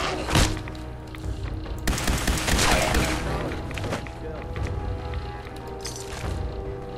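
Gunfire in the video game Fallout 4 at a cannery, with a burst of sharp shots and thuds followed by scattered hits and impacts over steady game ambience and music.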